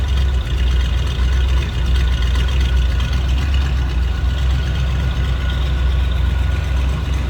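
A 350 V8 in a 1950 Oldsmobile Futuramic Club Coupe street rod idles through side-exit exhaust with a steady, deep low rumble, close by and continuous without revving.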